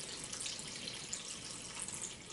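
Water pours steadily into a hydroponic container for a Kratky radish setup, a continuous close splashing rush with no pauses.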